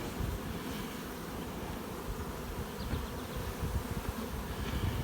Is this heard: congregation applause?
no